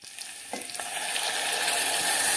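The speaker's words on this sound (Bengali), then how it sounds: "এবারে হাই ফ্লেমে 4 থেকে 5 মিনিট আমি গাজরগুলোকে এভাবে ভেজে নিলাম" Carrots frying over a high flame in a pressure cooker pan, a steady close sizzle that builds slightly louder, with a brief stirring scrape near the start.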